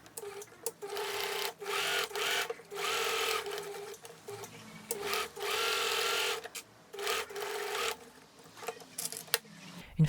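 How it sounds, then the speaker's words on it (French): A sewing machine stitches together foam and fabric layers of a handbag, running in several bursts of steady rapid whirring separated by short pauses, close and clear with no talking. "ensuite je vais coudre les 2 couches ensemble dans la valeur couture"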